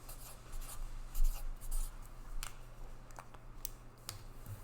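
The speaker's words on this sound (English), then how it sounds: "I'm going to write friends." Pen or pencil writing a word on paper, a quiet scratching with short irregular strokes and taps, faint and close, with no voices.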